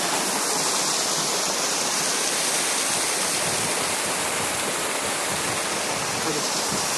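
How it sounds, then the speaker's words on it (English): Small mountain waterfalls in Ireland in light rain give a continuous, even rush of falling water, steady and broadband with no pauses and no voices. "we saw the cute little waterfalls in the mountain"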